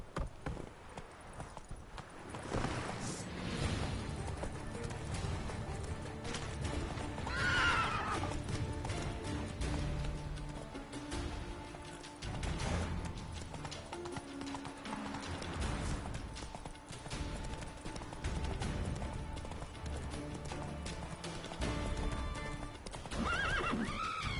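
Roach, a horse in the video game The Witcher III: Wild Hunt, clip-clops steadily along with several loud, close neighs and whinnies breaking through the hoofbeats, and no talking over it.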